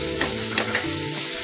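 Ginger and garlic sautéing in hot oil for lungfung soup, a loud continuous sizzle with a few scraping stirs of a spoon across the pan, no voices.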